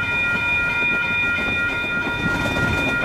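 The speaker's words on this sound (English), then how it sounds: "The train has passed by" A train rolls past a railroad crossing with steady wheel rumble and clatter under a continuous high ringing of crossing bells, fairly loud and unbroken.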